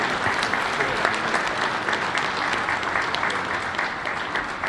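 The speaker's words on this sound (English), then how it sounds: "Let's give Representative Filner a big round of applause" Sustained applause from a conference audience at a public service award ceremony, a steady, even roar of many hands clapping at moderate distance.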